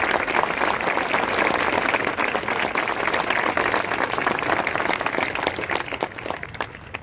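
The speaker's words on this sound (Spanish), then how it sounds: "Denle fuerte ese aplauso a nuestro Dios." Sustained, loud applause from a church congregation at a charismatic assembly, dense steady clapping filling the whole stretch and thinning slightly near the end, with no voices above it.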